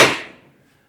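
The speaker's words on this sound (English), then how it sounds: "Let me get my hammer" A single sharp hammer blow on metal on a 1981 Ford F100 rear axle, loud and close, ringing briefly before decaying within about half a second, with no voices.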